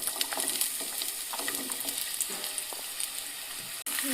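Onions sizzling in hot oil in a pan for a dried anchovy and bottle gourd curry, a dense steady frying hiss close by with faint stirring clicks and a brief abrupt cut near the end.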